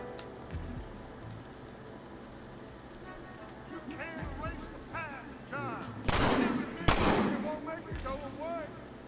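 Gunfire in the Red Dead Redemption video game, a few scattered shots early, then two loud, sharp blasts close together near the end, with people talking throughout.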